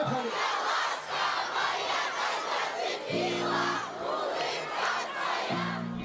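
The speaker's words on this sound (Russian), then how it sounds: "громкими аплодисментами Абхазия встретила долгожданных гостей" Concert audience in Sukhum, Abkhazia, loudly applauding and cheering as guest performers from the North Caucasus arrive; a dense, continuous crowd roar fills the scene, with bursts of music entering underneath partway through.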